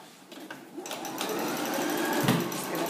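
Home sewing machine stitching a seam on girls' culottes, running steadily and close for about three seconds with a brief slower start.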